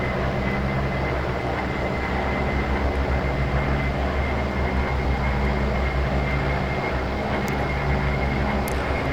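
Engine drone of a Bronco OV-10 aircraft in the flight-sim game DCS, a steady, loud, continuous hum and rumble holding constant without a break.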